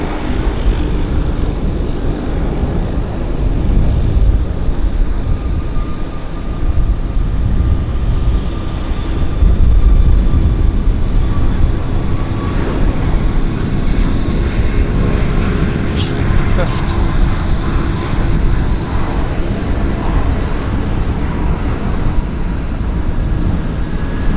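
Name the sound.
WestJet airliner rolling on the runway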